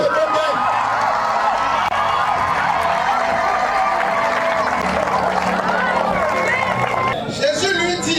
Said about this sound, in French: J'ai dit levez-vous, acclamez bien.